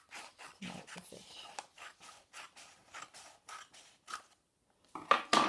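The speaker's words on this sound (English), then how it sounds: "I'll show you that with my scissors" Paper being cut with scissors while folding an origami fish: a rapid run of short, crisp snips close by, pausing briefly, then a louder rustle of handled paper at the end.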